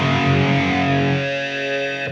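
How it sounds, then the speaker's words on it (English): A Zoom 505 multi-effects processor drives an electric guitar through a phaser or flanger with heavy distortion, one sustained chord sweeping and swirling as it slowly decays before cutting off. "Sounds like a phaser or a flanger and just a whole shitload of distortion again."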